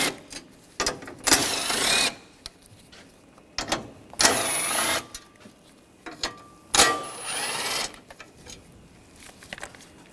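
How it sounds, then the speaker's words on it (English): A ratchet with a 10mm socket backs bolts off a bracket during removal of a 2013-2022 Buick Encore AC condenser and receiver drier assembly, giving three loud bursts of rapid clicking separated by quieter pauses and small knocks. "Take these bolts out, use a 10mm socket."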